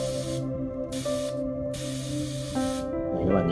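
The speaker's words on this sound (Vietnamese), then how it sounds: "nghe tiếng nén khí xả." Compressed air hisses in loud bursts from a homemade solder sucker, cutting on and off several times over a steady background hum.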